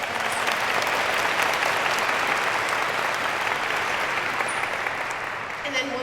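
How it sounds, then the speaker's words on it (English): An audience at a 2019 guest speaker event breaks into sustained applause, a dense, even wash of clapping that holds steady for several seconds before tapering slightly, with faint voices mixed in. "So round of applause."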